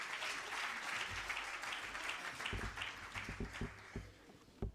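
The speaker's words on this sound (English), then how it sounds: "Let's welcome our king with a warm hand of applause" An assembly audience applauds to welcome a king, a soft wash of clapping heard from a distance with a few sharper individual claps near the end.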